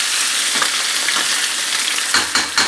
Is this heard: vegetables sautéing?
yes